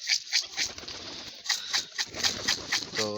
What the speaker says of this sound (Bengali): তো সমস্ত পায়রা সবগুলো খাবার খেতে চলে এসছে